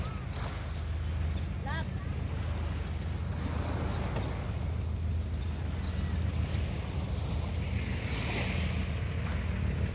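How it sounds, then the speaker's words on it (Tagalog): Ocean surf rolls and crashes continuously under gusty wind noise, with people talking faintly now and then. "may malalaking alon"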